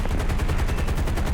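Aircraft machine guns on an American Navy fighter firing in War Thunder: a rapid, evenly spaced stream of loud, punchy shots, roughly ten per second, continuous and close.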